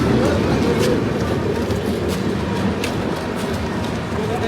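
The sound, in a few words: Vikramshila Express train arriving at station platform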